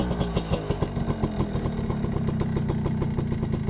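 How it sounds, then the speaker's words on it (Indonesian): A Suzuki RC100 motorcycle engine idles close by, its exhaust putting out a steady, crisp, rapid pulsing throb with no talking. "Suara knalpot masih renyah ini, knalpot garing ini guys."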